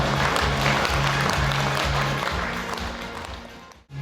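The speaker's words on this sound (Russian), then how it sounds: "Ваши бурные аплодисменты нашим передовикам." Enthusiastic applause fills a hall at an agricultural workers' day award ceremony, loud, dense clapping with a steady rhythmic beat running under it, then tapering off at the end.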